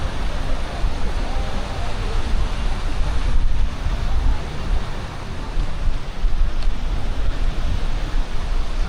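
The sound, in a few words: wind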